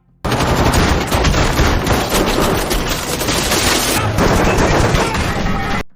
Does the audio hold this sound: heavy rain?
no